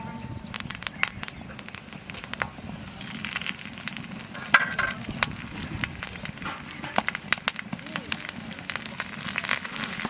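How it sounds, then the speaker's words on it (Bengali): Fish sizzles and crackles in hot mustard oil, a steady popping spatter with sharp sporadic crackles, heard close up throughout. "মাছ ভাজার জন্য তাই একটু সর্ষের তেল দিলাম।"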